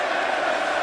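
Crowd noise from the WWE 2K25 wrestling video game, a dense steady roar of an arena audience, loud and sustained for under a second with no clear breaks.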